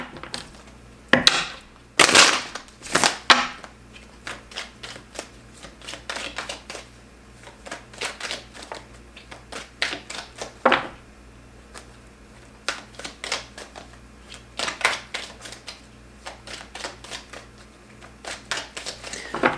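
Tarot cards are shuffled in irregular bursts of crisp riffling and slapping, close by, with short pauses between handfuls.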